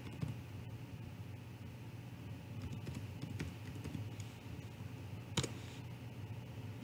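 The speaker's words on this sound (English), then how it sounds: "First, you're going to want to type in wallet lock" Command typed on a computer keyboard, soft irregular key clicks at close range over a faint steady background hum, no talking.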